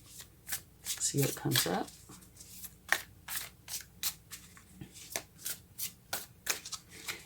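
Tarot cards are shuffled by hand close up, with a fast run of riffling flicks and soft slaps in a steady rhythm while a person speaks briefly over them.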